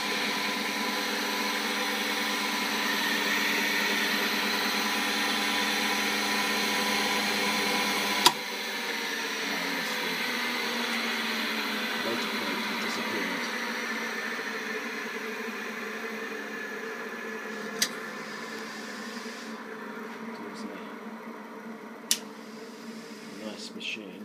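A bench-mounted polisher buffing machine with a smooth-running motor hums steadily and loudly throughout, its even drone broken by a sharp knock and a few brief clicks near the end.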